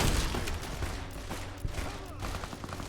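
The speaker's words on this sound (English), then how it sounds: "So, I switch to the lever action shotgun." Lever action shotgun blasts ring out in Fallout New Vegas, a dense run of close, loud booming shots layered over gameplay noise, with no talk.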